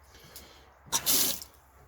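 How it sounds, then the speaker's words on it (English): Water gushes from farm water pipes on a rural property in southern Spain, a sudden loud hissing rush that bursts in mid-clip, holds for about half a second and then fades back to a quiet background. "Let's turn the water on and see just how bad this situation is."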